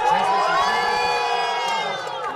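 A large crowd of diaspora Indians cheers and whoops at the White House, a dense, loud roar of many voices with shouts rising above it, fading slightly toward the end.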